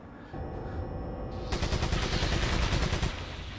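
Machine gun fire in Resident Evil 4 on Wii: a rapid, loud burst of rattling shots, following a lower rumble of game noise.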